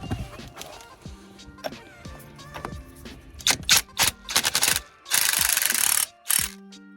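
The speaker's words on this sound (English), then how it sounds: "just tighten up this hub nut, not all the way, just enough so that it's on there firmly" A ratchet tightens the hub nut on a Vauxhall Corsa D during left drive shaft work, giving close, loud bursts of rapid clicking with short pauses between strokes, alongside metallic clanks; nobody speaks.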